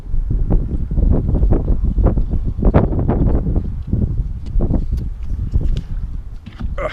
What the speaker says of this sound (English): Sorry for the wind, it's always windy here.